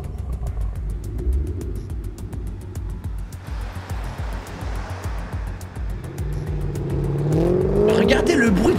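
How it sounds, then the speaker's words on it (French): A car engine in a TV series scene revs up and down with a rough, rising growl, building louder toward the end, with voices talking over it. "Regardez le bruit du moteur, frère."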